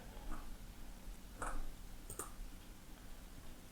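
A few sharp mouse clicks on a help button in bot-running software, two brief close taps about a second apart over a faint steady background hum.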